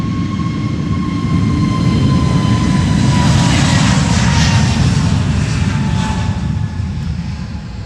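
A jet airliner on its takeoff roll from the Polderbaan runway at Amsterdam Schiphol, a loud, steady broadband engine roar with a faint whine above it that holds strong and fairly close for the whole stretch.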